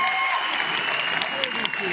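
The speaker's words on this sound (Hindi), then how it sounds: "एक बार जोर से तालियां सत्तू के लिए" Audience applause at a mega seminar, a dense, loud burst of clapping that fills the moment with a few sharper individual claps poking through, while a sustained tone hums beneath.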